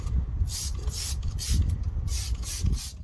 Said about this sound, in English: I'm just using my tyre brush.